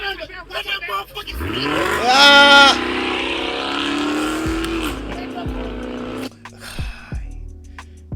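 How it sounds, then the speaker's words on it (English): A Dodge Hellcat engine revs up hard from idle to a high, loud snarling peak, then settles to a rumbling idle, with voices talking over it. "Give it a rev, man."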